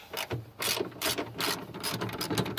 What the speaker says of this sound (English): there are 4 bolts that you're going to need to remove to get to that battery